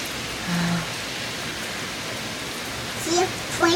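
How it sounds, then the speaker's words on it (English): Heavy rain pours steadily onto a porch during a rainstorm, a dense even hiss close by, with brief voices cutting in near the end. "Ooh, it's raining harder."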